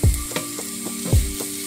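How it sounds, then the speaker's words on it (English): Samosa filling fries in a pan on very low heat with a steady, close hiss, punctuated by a few soft scraping stirs of a spoon. "we'll just allow this to continue to fry on very, very low heat"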